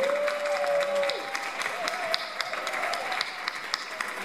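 An audience applauds a wind player at an album launch, steady clapping with scattered sharp claps continuing after a brief voice at the start and gradually thinning.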